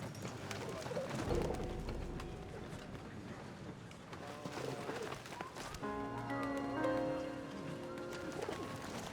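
Pigeon cooing from a World War video game, a soft repeated coo under steady background ambience, with tonal game music rising partway through.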